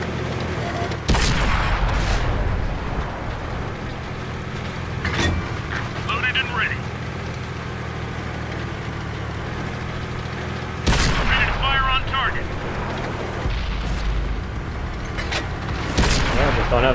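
Artillery fire in World of Tanks during a battle with a Pz.Kpfw. V/IV tank: several loud, sharp booms spaced seconds apart, each with a short crackling tail, over a constant low engine rumble.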